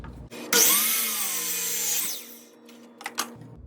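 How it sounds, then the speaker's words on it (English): Miter saw cutting a scrap wood board with a push stick: the motor spins up to a loud whine, bites through the wood for about a second and a half, then winds down, and a few light knocks follow. "Don't be afraid to use a push stick with the miter saw."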